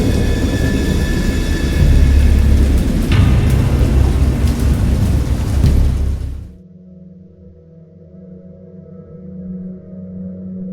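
Heavy rain and rolling thunder from a storm in the H. P. Lovecraft game Dagon, a loud, dense downpour that cuts off abruptly partway through, leaving a low, quiet hum.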